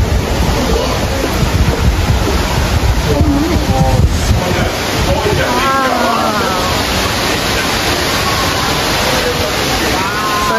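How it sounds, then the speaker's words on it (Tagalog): Indoor waterfall in the Cloud Forest dome at Gardens by the Bay, Singapore, pours as a constant broad rush close by, while people talk over the roar. "So, ito daw yung highest indoor waterfalls in the world."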